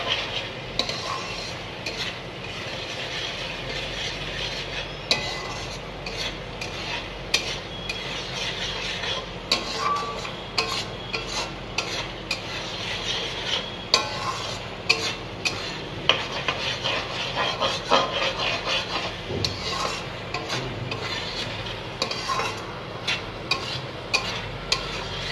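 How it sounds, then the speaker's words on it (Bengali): Soybean chunks stir-fried in spice masala, a continuous low sizzle under frequent scraping and tapping of a spatula against the pan, close and steady. "এবার দিয়ে দেবো সোয়াবিনটা, দিয়ে আর একটু কষাবো।"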